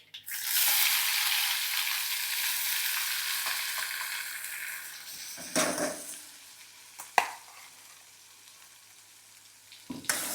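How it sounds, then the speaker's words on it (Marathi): Ground coconut paste drops into a hot tempering of curry leaves for a spicy coconut chutney, bursting into loud sizzling that gradually settles and quiets, broken by a few sharp stirring scrapes and knocks, with no speech. "लगेचच आपण केलेलं वाटण त्यात टाकून घेऊया."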